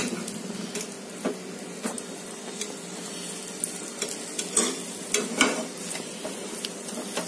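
A bread omelette fries in a pan after being flipped, with a steady close sizzle and scattered soft crackles and pops throughout.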